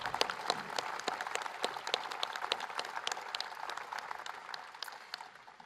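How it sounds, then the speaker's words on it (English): An audience at a political celebration for bipartisan gun reform legislation bursts into dense, crackling applause that holds steady, then gradually thins and fades, with no talking. "And that deserves applause."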